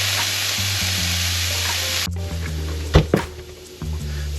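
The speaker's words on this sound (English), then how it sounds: "A little bit of oil in there. We're gonna sweat these vegetables out." Vegetables sweat in oil in a pan with a steady sizzle, then a utensil clunks against the pan and the frying continues more softly, with a couple of knocks.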